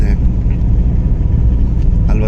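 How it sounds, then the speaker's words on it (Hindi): Street traffic passes by in Gilgit, a steady low rumble of car and bus engines close by that fills the whole moment. "ट्रैफिक है वो रवा दवा है।"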